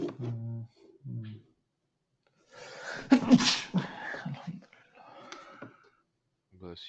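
A loud, close sneeze erupts amid quiet talk, with murmured speech before it and softer breathy sounds trailing after.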